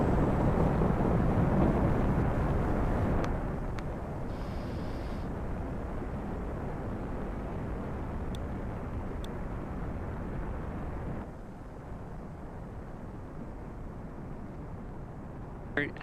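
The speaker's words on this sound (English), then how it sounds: "And liftoff of Starlink 2-4. Go Falcon, go Starlink." SpaceX Falcon 9 rocket lifting off from Space Launch Complex 4 East at Vandenberg carrying Starlink satellites: a loud, broad continuous roar that is strongest at first, then eases to a steady, slightly softer rumble.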